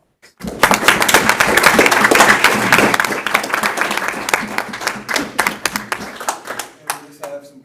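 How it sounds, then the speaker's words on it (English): A roomful of people at a school board meeting bursts into applause, strong and close at first, then thinning into scattered individual claps before fading out. "big round of applause."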